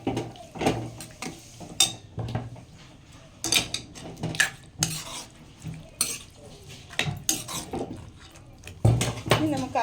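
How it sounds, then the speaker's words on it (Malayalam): A spoon stirs turmeric into lemon pickle in a pot in Kerala-style pickle making, giving repeated close scraping and clinking strokes in uneven bursts, with talk in between. "ഇനി ഇത് ഇളക്കിയെടുക്കാം."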